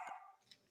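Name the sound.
dogs barking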